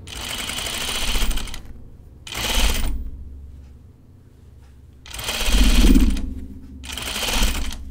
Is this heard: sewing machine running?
yes